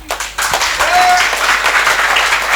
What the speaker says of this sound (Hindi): तालियां बजाओ हपक के।